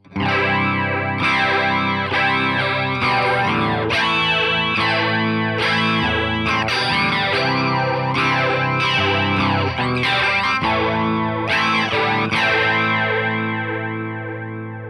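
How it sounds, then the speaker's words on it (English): An electric guitar played through a Fender Tone Master Pro's 70s flanger, its tone sweeping with a jet-like whoosh as chords ring out continuously for the whole stretch. "Here's the 70s flanger."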